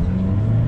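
A 140 hp Chevrolet Vectra GT-X with a new gearbox holds a steady, loud, droning rev as its engine runs against the rev limiter, close and unbroken with no voices.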